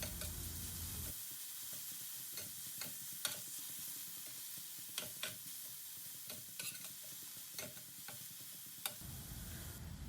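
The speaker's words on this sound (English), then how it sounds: "On medium flame we will saute them for a while." Diced tomatoes with onion, ginger and garlic sauteing in a pan over a medium flame, a quiet sizzle under repeated sharp ticks and scrapes of stirring.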